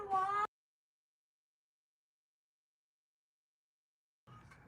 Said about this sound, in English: Wants to just meow up on him all the time.